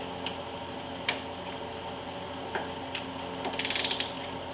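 Ratchet wrench loosening a stuck bolt on Chevy Tahoe brakes: scattered sharp clicks and clanks, then a quick run of ratcheting ticks near the end, close and moderately quiet.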